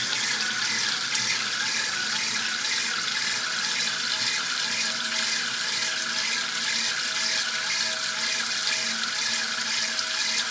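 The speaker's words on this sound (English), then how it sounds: "Lots of water gushing everywhere." Water gushes from a tap in a loud, steady, unbroken rush that runs the whole time with no pauses.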